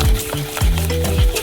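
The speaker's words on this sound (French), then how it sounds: "On ajoute du sucre et on mélange." Melon juice, pulp and sugar are stirred in a saucepan, giving close scraping and swishing strokes in a repeating rhythm, fairly loud and with no talking.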